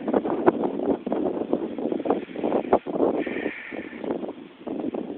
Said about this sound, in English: Wind finally picking up today